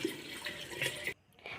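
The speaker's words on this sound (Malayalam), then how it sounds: "ലാസ്റ്റായിട്ട് നമ്മൾ തിളച്ചരച്ച വെള്ളം ആഡ് ചെയ്ത് കൊടുക്കാൻ പോകുന്നത്." Freshly boiled water poured into a homemade grape wine mixture of grapes, sugar and yeast, a steady close splashing stream that stops abruptly near the end, followed by quiet.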